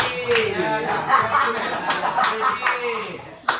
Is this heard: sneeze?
no